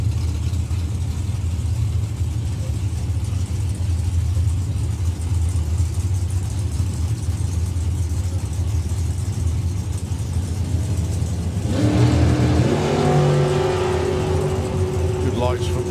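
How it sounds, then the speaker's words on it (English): Drag strip run by a Firebird and a dragster in Super Pro qualifying at Santa Pod Raceway, UK: a steady loud roar of racing engines, with a rising, strongly tonal engine note surging in near the end. "AC Bell driving the Firebird, Joe Kellett in the Dragster"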